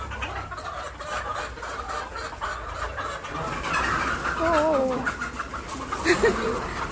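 Chickens cluck and squawk while people try to catch them, the flustered calls rising toward the end over a rough outdoor background, with people talking nearby.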